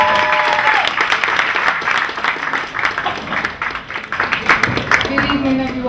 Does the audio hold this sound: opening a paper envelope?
no